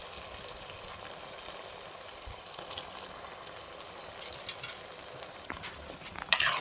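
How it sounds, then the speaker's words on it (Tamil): Cleaned squid sizzling in a pan with sautéed tomatoes, a soft steady frying hiss with faint crackles and a louder stir or clatter near the end. "இது கூடவே க்ளீன் பண்ணி வச்சுருந்தேன் கனவா மீன் போட்டுருவோம்."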